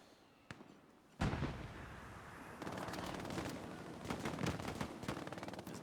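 Machine gun fire in a World War II shooter game battle around a chapel at St. Mère-Église, with dense bursts of rapid shots and explosions, loud and continuous, growing busier toward the end.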